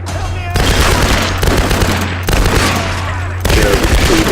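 Rapid automatic gunfire in the Tomb Raider game, loud sustained bursts with brief gaps, close and dense.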